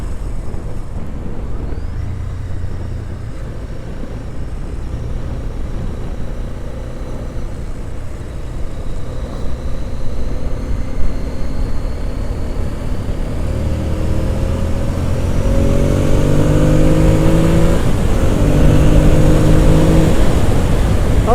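Ducati S4R motorcycle engine revving hard, a loud continuous rumble that builds in intensity, with rising tonal sweeps in the second half as the revs climb and fall.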